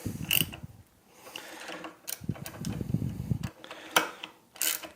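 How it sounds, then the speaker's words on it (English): A blind bearing puller is expanded inside a hardline, making close, quiet metallic clicks, scrapes and ratcheting turns in short irregular bursts with pauses between. "We'll stick the blind bearing puller in there. Okay, I'll expand it a little bit."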